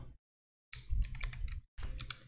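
Keys clatter on a computer keyboard as code is typed, with two close bursts of rapid clicking keystrokes separated by a brief silent pause.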